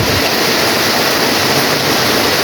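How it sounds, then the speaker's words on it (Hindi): Torrential monsoon rain pours down in Dharamshala, Himachal Pradesh, a loud, dense, steady roar of water with no other sounds audible. "इतनी धुआंधार बारिश हो रही है, धुआंधार मूसलाधार बारिश भाई।"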